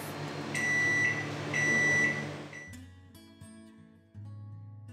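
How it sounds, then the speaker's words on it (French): A microwave oven heating a container of water hums steadily, then gives a series of repeated electronic beeps as it finishes. The hum cuts out and quieter room noise follows. "on va le mettre dans le micro-ondes pendant environ 1 minute, le temps que l'eau elle chauffe"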